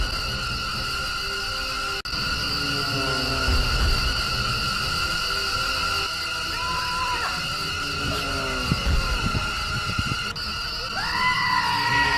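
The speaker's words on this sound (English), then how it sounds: "Was that the goat screaming sound effect that I just heard?" Loud, harsh goat-scream sound effects from the film Birdemic break out in bursts over a steady, droning background with layered tones, repeated several times.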